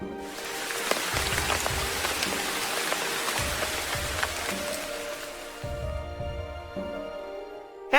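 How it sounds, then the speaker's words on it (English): Heavy rain patters steadily and densely on surfaces, a continuous close hiss with scattered droplet hits, fading slightly near the end. "One day, there was a heavy rain."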